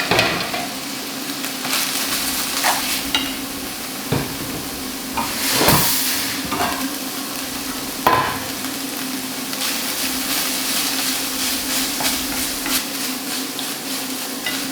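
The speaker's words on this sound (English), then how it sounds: "fill that up with boiling water and we'll just give it a stir to mix it all in" Beef ragu in a pan, topped up with boiling water and stirred, gives a continuous soft sizzle and bubbling hiss, with a few louder scraping stirs and clatters along the way.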